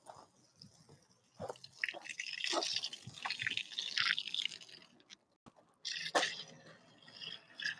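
Water is poured onto a plant in close, uneven splashing bursts, trickling and dripping between pours.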